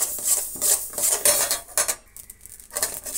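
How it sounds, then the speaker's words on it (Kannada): Mustard seeds roasting in a pan while making masala powder for sambar, giving dense crackling pops and clinks of metal cookware at close range, with a brief quieter stretch near the end. "ಸಾಸಿವೆ ಹುರಿದಿದ್ದುನು ನೋಡಿ ಎಲ್ಲ ಹೊಡಿತಾ ಇದೆ ಸಾಸಿವೆ ಸಿಡ ಸಿಡ ಸಿಡ ಅಂತ"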